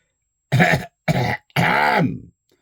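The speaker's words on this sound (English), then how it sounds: "coughs rather unsubtly" Three quick, close coughs in a row, sharp and throaty, with silence around them.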